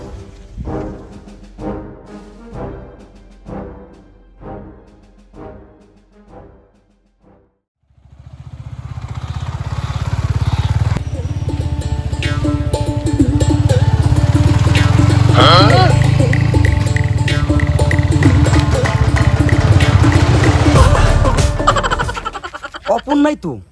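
After a stretch of people talking, a motorcycle engine starts and runs with a loud, close, steady drone for the rest of the scene, with voices partly heard over it.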